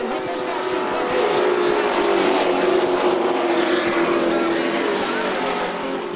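Asphalt pro trucks race on a dirt track, a loud sustained engine roar from several machines with rising and falling tones as they work through the turns, heard from trackside without a break.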